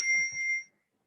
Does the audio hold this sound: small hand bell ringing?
yes